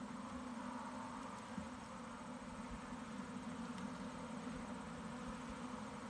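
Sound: honeybees buzzing in an open hive

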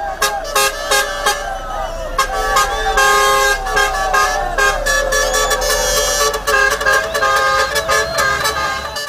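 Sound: honking tipper trucks in a street procession

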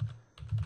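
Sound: typing a web address on a computer keyboard

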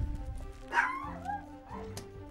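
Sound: dogs barking in the background

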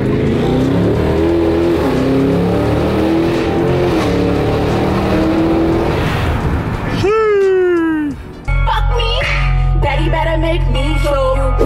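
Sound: Dodge Hellcat Redeye car accelerating

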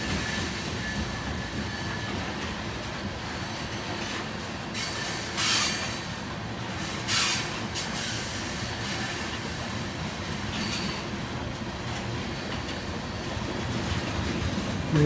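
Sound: long BNSF mixed freight train passing

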